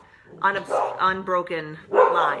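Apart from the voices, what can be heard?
dogs barking indoors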